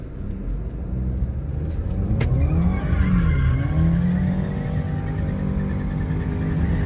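An Alfa Romeo Giulia 2.0 in race mode spins a donut, its engine droning at steady high revs while tires squeal in wavering, rising and falling tones, loud and continuous.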